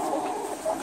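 Chickens on a small homestead flock of hens and roosters, giving soft, fairly quiet clucks in a brief burst.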